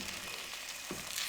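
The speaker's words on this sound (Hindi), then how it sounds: "अब इसमें हम मुसलसल चम्मच हिलाएंगे ताकि सूजी नीचे से जलने ना पाए" Semolina roasting in ghee sizzles softly in a pan while a spoon stirs it continuously, a faint, even frying hiss with small scraping touches and no talking.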